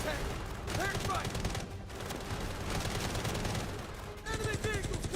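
Dense gunfire and bursts of explosions from an air strike in a military video game trailer, loud and continuous, mixed with shouted voices and in-game music.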